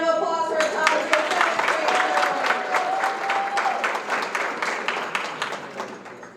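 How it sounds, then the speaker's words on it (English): A school audience at a secondary geography bee applauds the top 7th grade students, with dense, steady clapping from a crowd that slowly thins out toward the end, and a voice briefly heard at the start. "Big round of applause for our top 7th grade."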